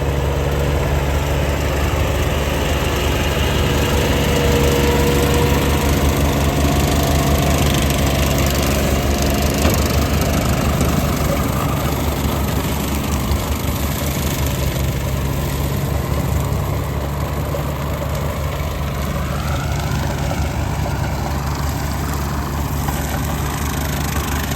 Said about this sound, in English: We are holding the mower a little high right now